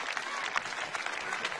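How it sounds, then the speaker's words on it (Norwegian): Warm applause from a revue audience honoring Norwegian comedian Leif Juster at the 1993 Gledessprederprisen award event, a steady dense wash of clapping throughout the short stretch. "Og en varm applaus til Leif Juster."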